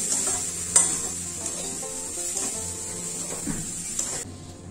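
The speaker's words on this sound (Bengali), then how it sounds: "এইভাবে অল্প করে দুধ দিয়ে তারপর ভালো করে এইভাবে মিশিয়ে নেব" Semolina mohanbhog being stirred with milk in a pan, a steady scraping and stirring with soft sizzling underneath, a sharper knock near the start and the sound cutting off at the end, with no voices.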